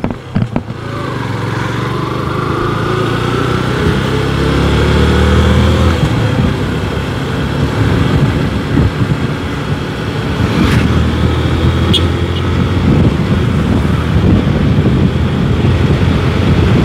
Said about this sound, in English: Right now I'm riding Yamaha ZH2.